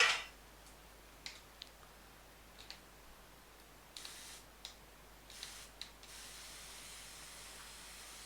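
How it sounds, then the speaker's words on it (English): A spray bottle mists water onto terrarium soil, several short, quiet hissing spritzes spaced irregularly, then a longer continuous hiss toward the end, all close and faint. "And spray some more water"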